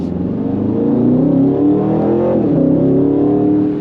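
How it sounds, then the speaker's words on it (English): A 2026 Aston Martin Vantage S Roadster's exhaust drones loudly up close, its engine note climbing steadily as it accelerates. "It's got a great sound coming out of that exhaust."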